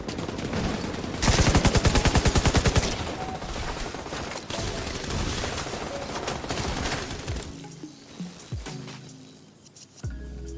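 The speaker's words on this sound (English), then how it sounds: "We're gonna shred everything with the LMG." Sustained automatic fire from an LMG machine gun in the video game The Division 2, a loud, dense burst of rapid shots that continues, then thins out into scattered shots and quieter moments toward the end.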